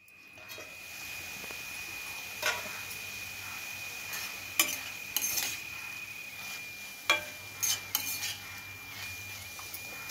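Shepu (dill greens) bhaji being stirred in a pan, with a steady low cooking hiss and several distinct scrapes and clinks of a spoon against the metal, loudest in the second half.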